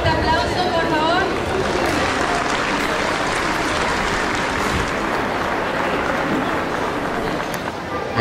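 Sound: audience applause at a graduation ceremony

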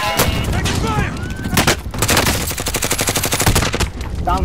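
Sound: gunfire in video game Call of Duty Modern Warfare

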